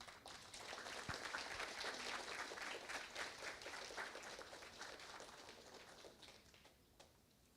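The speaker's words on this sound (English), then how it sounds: "Can we have a round of applause?" A round of applause from a conference audience at a morning session, dense and steady, building quickly and then holding before fading out near the end. It sounds somewhat distant and fairly quiet, with no talk over it.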